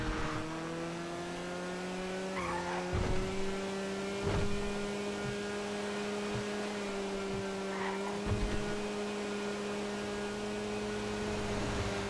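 Trashmaster garbage trucks racing in GTA FiveM, a continuous droning engine hum with a steady pitch, several engines running together with occasional brief bumps and scrapes, no talk.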